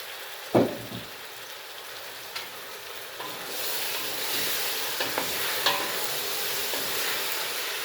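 Cabbage rolls (golubtsy) fry and sizzle steadily in a pan, with a sharp clatter near the start and a few stirring knocks, the hiss growing fuller and louder after a few seconds.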